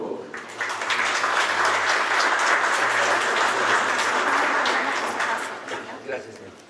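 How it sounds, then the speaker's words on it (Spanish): An audience at a round-table session on building licences gives loud, sustained applause, dense clapping swelling quickly and holding before tapering at the close. "Démosle un fuerte aplauso,"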